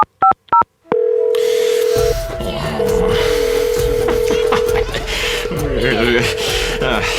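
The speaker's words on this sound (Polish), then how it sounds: "Telefon wziął? Numer wybiera?" Several quick dial-tone beeps of a telephone number being dialed open, then a steady electronic telephone tone hums beneath noisy background music and cat-like yowls.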